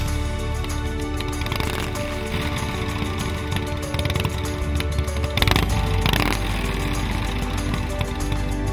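A customised Harley-Davidson touring motorcycle rumbles steadily around Albany, Western Australia. The engine drone is loud and continuous and swells slightly near the middle.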